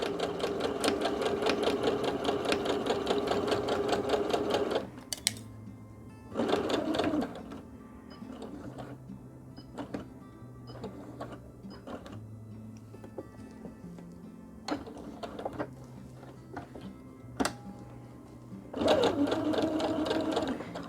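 Sewing machine stitching straight lines on scrap fabric, running in steady mechanical bursts with pauses between, short whirring runs and quiet gaps where the fabric is turned.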